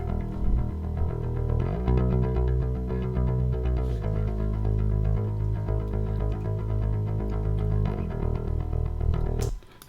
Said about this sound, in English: But the dry bass, actually, it sounds like this.